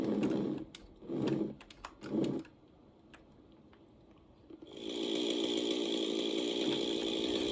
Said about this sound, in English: That's absolutely annoying when you hear the chainsaw.